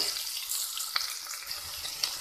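Onions sizzling in hot oil with fennel seeds for a quick kuzhambu, a bright, steady frying hiss with a few small crackles and pops, quiet and close, with no voices.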